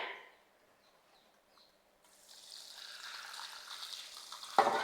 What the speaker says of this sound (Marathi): भाजी आपल्याला ही चांगली दोन वेळा अशी धुवून घ्यायची आहे